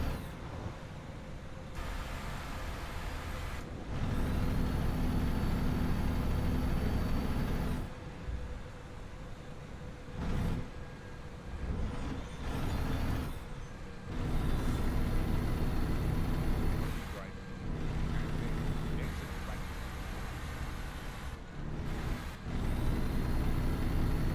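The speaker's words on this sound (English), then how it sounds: "You hear the pistons just chopping. I mean, this is one of the dopest engines." An X15 Performance diesel truck engine runs with a deep, steady rumble and rhythmic chopping, broken by repeated abrupt cuts and returns over about twenty-four seconds, with no talking.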